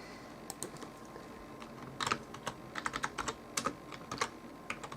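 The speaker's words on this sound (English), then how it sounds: "And I'm going to type in" A message is typed on a computer keyboard in quick, irregular bursts of soft, close keystrokes, some clustered in rapid runs, against a quiet room background.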